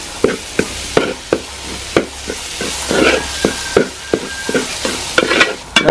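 Spice powders, ginger and garlic are stirred in a pan for a Kerala-style crab roast, sharp rhythmic spoon scrapes and taps ringing out close over a constant sizzle, with no talking.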